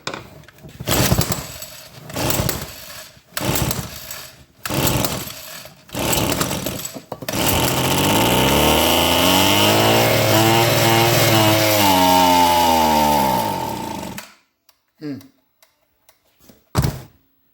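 An old Homelite hedge trimmer's small two-stroke engine coughs in several short bursts, then catches and runs steadily for about seven seconds, its pitch wavering up and down, before dying out and leaving only a few scattered knocks.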